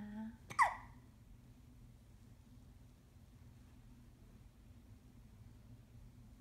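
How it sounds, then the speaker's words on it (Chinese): A child gives a single brief hiccup near the start, close and soft, then only quiet room hiss follows for several seconds. "你坐着久一点就不会一直打嗝啦"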